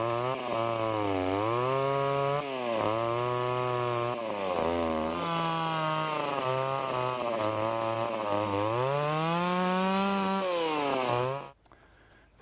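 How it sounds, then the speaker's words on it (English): A chainsaw runs loudly and continuously, its engine pitch dipping and rising as it bites into wood, then cutting off abruptly at the end. "I'm going to make a series of chainsaw cuts out of this area"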